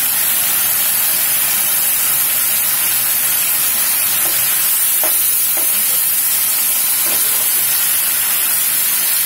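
Fried potatoes being added to a pan of spiced fish-head curry and stirred, with loud, continuous sizzling hiss, faint scraping of the stirring utensil, and no talk.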